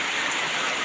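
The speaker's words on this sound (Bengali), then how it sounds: "দেখেন আজকে কত বৃষ্টি হচ্ছে আমাদের এলাকায়" Heavy rain pours down steadily outdoors, a dense, loud, continuous hiss of drops soaking trees and soil, with no voices.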